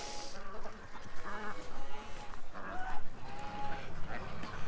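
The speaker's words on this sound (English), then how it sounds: "Doug's herding the ducks all weekend too." Ducks honk and quack repeatedly while a dog named Doug herds them in a backyard, the calls overlapping in irregular bursts at moderate distance over background noise, with faint speech nearby.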